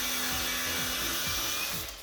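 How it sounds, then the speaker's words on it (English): Angle grinder cutting through a seized stud and nut on an old barn-find Leyland cab-over truck, a steady harsh whine with rhythmic grinding surges about every half second, close and loud, easing off at the end. "Let's get back on the grinder."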